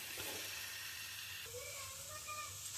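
Seasoning frying lightly in a pan for mango pulihora, a soft steady sizzle and hiss close by with faint stirring, no talk over it.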